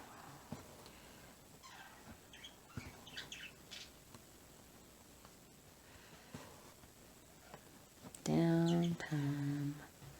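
Birds chirp intermittently in soft, scattered bursts throughout, then a much louder, harmonic call rings out for a couple of seconds near the end.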